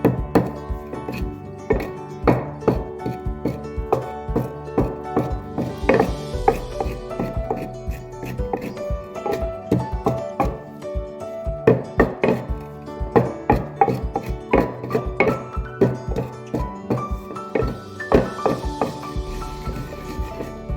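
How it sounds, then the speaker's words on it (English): Ingredients for Igbo-style Ofe Nsala soup being crushed by hand, giving a steady run of close, hard thuds and knocks in an uneven rhythm that continues throughout with no talking. "I'm done crushing."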